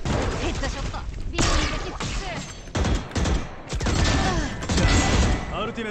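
Rapid bursts of shooter video game gunfire, loud and close, broken by short pauses between volleys, with a voice talking excitedly over the shots.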